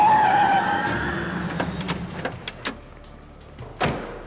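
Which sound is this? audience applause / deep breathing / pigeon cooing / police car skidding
police car skidding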